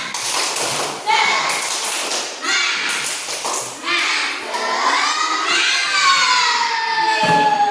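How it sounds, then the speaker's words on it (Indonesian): A group of children doing a rhythmic spirit clap, sharp hand claps and thumps in quick patterns mixed with loud shouting and chanting voices, close and energetic throughout. "Tepuk semangat baru"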